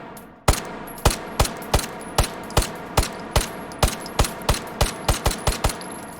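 A Glock pistol fitted with a red dot sight fires about sixteen crisp, loud shots at a steady, fairly quick pace, each a sharp crack with a short tail, alone without talk.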